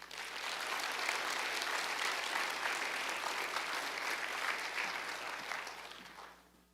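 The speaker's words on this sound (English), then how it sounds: "let's give all of our teacher and support persons of the year a round of applause" An audience at a county board of education awards ceremony for teacher and support staff of the year gives a sustained, dense round of applause, steady for about five seconds before tapering off.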